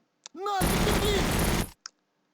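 A single sustained burst of automatic gunfire in the Battle Academy 2 Eastern Front wargame, set around Moscow in November 1941. The burst runs loud for about a second, with a brief voice just before it and a short click after.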